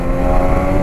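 A Kawasaki Ninja H2 motorcycle engine revs hard and loud, a dense sustained roar heard up close for a brief moment with no talk.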